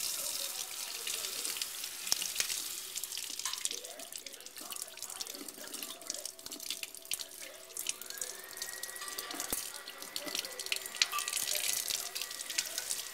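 Water runs steadily from a tap with splashes and drips as it rinses a freshly dyed lacrosse head, a continuous close hiss with no clear talking.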